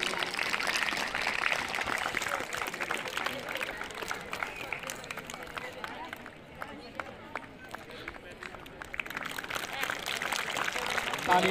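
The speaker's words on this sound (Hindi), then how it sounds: "जोरदार तालियों के साथ स्वागत करेंगे।" Applause from a crowd at a school farewell ceremony as a guest, an education officer, is welcomed, a dense steady patter of many hands lasting throughout, dipping slightly in the middle before swelling again.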